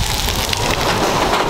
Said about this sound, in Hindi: अभी हो रही है बारिश तो हम जा रहे हैं घर पे।